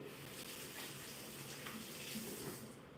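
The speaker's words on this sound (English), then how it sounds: "Let me give my hands a quick rinse." Tap water runs steadily into a kitchen sink as hands are rinsed, a continuous close splashing hiss with no talk for about three seconds.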